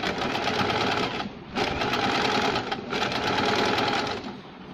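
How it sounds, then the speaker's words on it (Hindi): An electric sewing machine stitches a fall onto a saree edge in fast, even bursts of whirring needle chatter, three runs separated by brief pauses, loud and close. "ये देखिए, इस तरह से हम सिलाई लगाएंगे।"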